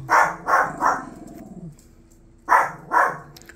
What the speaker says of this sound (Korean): 수마, 엄마가 짖는다